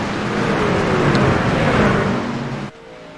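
Race cars at Daytona International Speedway during a Sportsman Series race, engines roaring loudly and continuously as the field lines up two by two to return to green flag racing, before the sound cuts off abruptly near the end.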